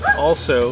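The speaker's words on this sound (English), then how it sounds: "I apologize for my crazy dog" A dog gives a couple of short, close, loud yelping barks, with a brief word of speech overlapping the sounds.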